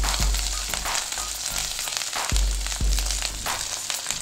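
Chapli kebabs sizzle and fry in hot oil in a pan over medium heat, a steady close crackle with a few sharper pops, no talking.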